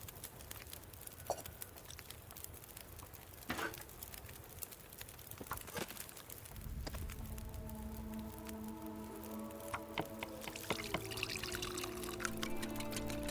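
Water being made over a fire in The Long Dark, a steady pouring, trickling liquid sound with faint patter, moderately quiet and continuous, growing fuller in the second half with a low humming tone alongside.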